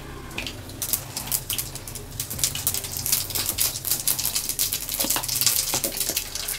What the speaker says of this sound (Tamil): கடுகு பொரிஞ்ச உடனே கொஞ்சம் சீரகம் போட்டுக்கலாம்